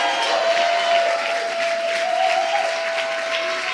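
Sustained, dense applause from a church congregation fills the room at a steady level, with a faint tonal hum running beneath the clapping.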